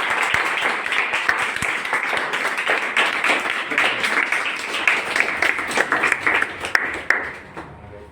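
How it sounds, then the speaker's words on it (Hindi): An audience at a career counselling session applauds as the guest speaker is invited up, with continuous dense clapping from many hands that holds steady for several seconds. "उनके लिए एक बार जोरदार तालियां।"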